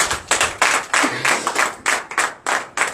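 At a morning prayer service, a congregation claps in acclamation to Jesus: sharp, loud, rhythmic bursts of hand claps repeating at a quick, fairly regular pace, close and unaccompanied by speech.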